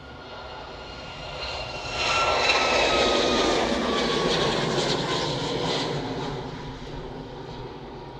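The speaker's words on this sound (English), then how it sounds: "Ryanair's already on the roll. Off to Alicante, another Max" A brand-new Ryanair Boeing 737 Max jet rolls for takeoff at Manchester Airport. It is heard from a distance as a broad engine roar that swells after two seconds, holds loud with a rising whine, then slowly fades.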